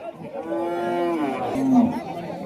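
A native breed dairy cow moos in long, drawn-out lowing calls, close and loud, with faint background chatter at a cattle market.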